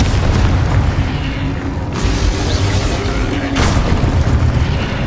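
A Confringo fire spell blasts in Hogwarts Legacy, a loud booming explosion with a dense, roaring rumble that swells again with a second burst partway through.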